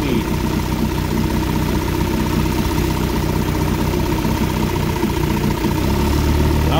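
A small engine idles steadily and loudly after a carburetor rebuild, a continuous even mechanical drone with a slight rhythmic flutter and no pauses throughout.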